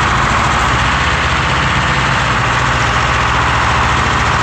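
Diesel engine of a Savage 220 log loader with a bad cylinder running continuously, loud and close, a dense steady rumble with rough low pulsing throughout.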